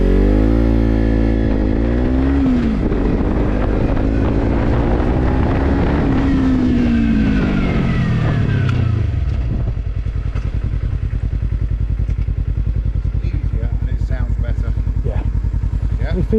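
Kawasaki Z300 motorcycle during rider training, the engine revving up through the gears and then easing down, loud and near with heavy wind buffeting on the microphone throughout.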